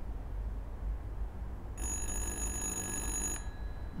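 A telephone rings in the video game Little Hope, a steady electronic bell trill lasting about a second and a half over a low rumbling ambient background, with no voices.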